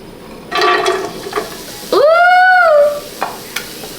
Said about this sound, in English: So we're gonna add onions, and then we're gonna add some pre-chopped garlic.